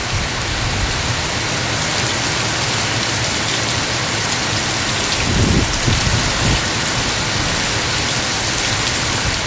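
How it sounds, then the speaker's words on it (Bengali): Heavy rain in Malaysia pours down in a dense, constant hiss, with a brief low rumble partway through. "এই হলো বন্ধুরা মালয়েশিয়ার বৃষ্টি"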